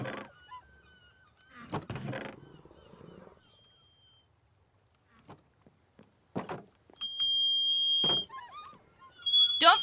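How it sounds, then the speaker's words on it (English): A swan gives a few honking calls, short and scattered bursts near and moderately loud, separated by quiet stretches with faint background chirps and a sustained tone late on. "Hello, Goose. Well, it's a swan"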